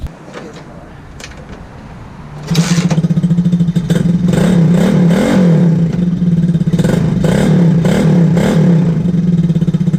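An X15 pocket bike's small engine cranks briefly, catches and starts, then runs loud and close with a steady buzzing drone and uneven revving surges for the rest of the clip.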